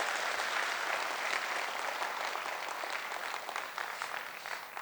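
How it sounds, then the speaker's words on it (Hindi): A seminar audience gives dense, sustained applause, a steady close patter of many hands that fades slightly toward the end. "गॉड के लिए एक बार जोरदार ताली बनती है दोस्तों"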